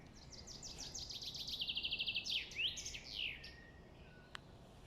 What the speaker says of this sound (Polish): Że go widzicie tego ptaszka?